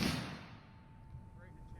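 An AK rifle fires once at a target: a sharp, loud report at the very start decays into a fading tail and quiet ambience.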